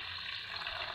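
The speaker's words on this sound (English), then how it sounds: "So I pour the water here." Steaming hot water poured steadily into a pot in a home kitchen, a continuous close rushing splash.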